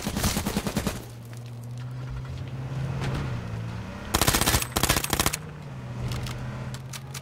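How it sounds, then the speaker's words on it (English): Rapid automatic gunfire in the video game H1Z1, several loud bursts of repeated shots separated by brief pauses, with a low engine-like hum underneath. "there's so many people shooting me now."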